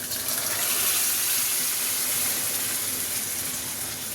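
Cooked dal is poured into a pan of oil-glossed, well-fried masala for dal makhani, making a steady, loud gushing hiss that runs unbroken for the whole stretch, with no talking.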